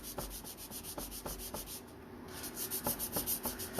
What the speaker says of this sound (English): I should be able to sand that now